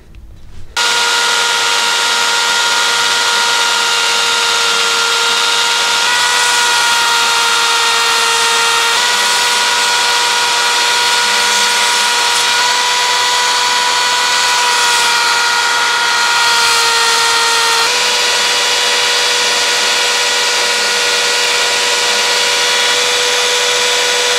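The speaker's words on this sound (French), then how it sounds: "Donc on remet un petit coup de ponceuse." A power sander grinds steadily on a knife forged from an old rusty shovel, a loud, close, continuous whine that runs without a break throughout.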